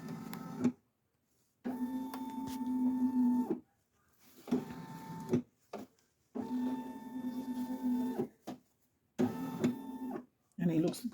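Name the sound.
Brother SE1900 embroidery machine tracing design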